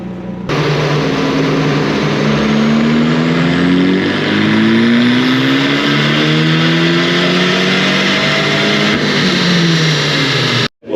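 A Fiat 500 roars loudly on a dyno at full throttle, its engine pitch climbing steadily through the gears for about ten seconds before cutting off abruptly.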